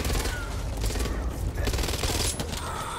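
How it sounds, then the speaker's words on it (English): Heavy, dense gunfire fills the co-op zombie shooter Back 4 Blood, with overlapping rapid shots and bursts crowding together continuously and loudly throughout. "Shoot it, shoot it, shoot it."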